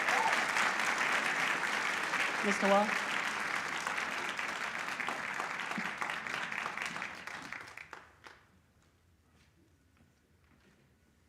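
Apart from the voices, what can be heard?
audience applause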